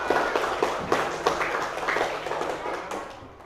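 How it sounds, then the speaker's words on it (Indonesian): A primary school class in Aceh does a rhythmic spirit clap, many hands striking together in quick, even beats about three per second, fairly loud in a roomy space, fading slightly toward the end. "tepuk semangat dulu ya"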